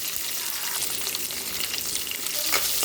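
Onions, garlic, green chillies and curry leaves sauté in hot oil in a pan, a steady close sizzle with a few soft stirring scrapes near the end, no voices.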